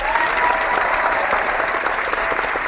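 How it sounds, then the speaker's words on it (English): Steady applause, a small group clapping continuously and fairly close throughout, with no voices over it. "I'll even clap for you"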